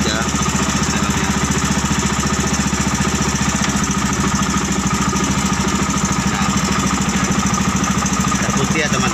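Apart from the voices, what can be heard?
motorcycle engine running, driving a car transmission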